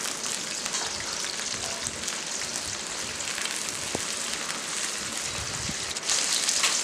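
Onions and curry leaves frying in hot oil for a Tamil sardine curry (salai meen kulambu), giving a steady, close crackling sizzle with no pause and a slightly louder surge near the end.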